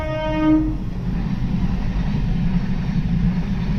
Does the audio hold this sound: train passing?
yes